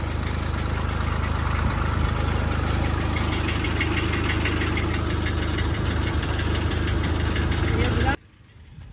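A tractor engine idles loudly and steadily with a knocking chug while pumping water to flood a field, a voice talking over it before the sound drops away near the end.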